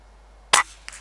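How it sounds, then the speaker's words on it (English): An air rifle fires once at a rabbit about 50 yards off along the wooded edge of a bog, a single sharp crack followed a moment later by a faint, brief impact-like tick. "I'm just going to take the shot where I am."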